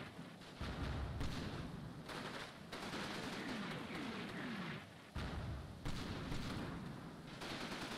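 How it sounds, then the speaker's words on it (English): Heavy artillery and small-arms fire in Combat Mission: Red Thunder, a World War II wargame: continuous rumbling barrages and crackling gunfire that keep going without pause, with louder booms cutting in every second or two. "Still heavy artillery fire."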